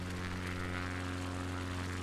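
A propeller plane drones steadily as it flies along the coast past the Needles Lighthouse off the Isle of Wight, its engine hum constant and even, with no talk over it.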